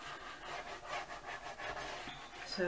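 Paper being burnished by hand while making a vintage pocket folder journal, a steady dry rubbing and scraping with repeated strokes, fairly quiet and close, with no talking.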